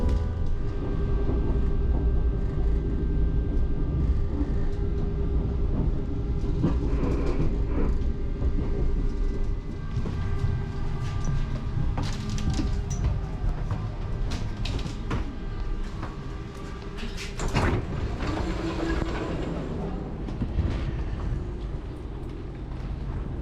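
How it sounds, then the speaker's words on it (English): A number 1 tram in Bratislava rumbles steadily along its rails for a long stretch, with squeals, clanks and rattles rising and fading over the continuous low roar. "we're on this tram to the end of the line"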